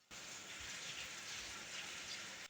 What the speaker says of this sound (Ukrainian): Тупо лє дощ.